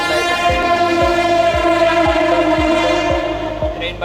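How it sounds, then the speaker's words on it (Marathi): A fast local train speeds past on the Navin Uran railway line, its wheels thumping over rail joints about twice a second beneath a steady, droning tonal hum. "ट्रेन बघा किती फास्ट गेली तिकडून अशी."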